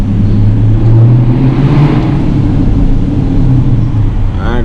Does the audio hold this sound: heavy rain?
no